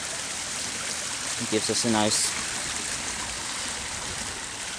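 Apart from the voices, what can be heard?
creek water over a small built waterfall dam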